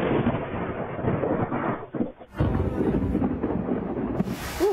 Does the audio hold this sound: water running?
no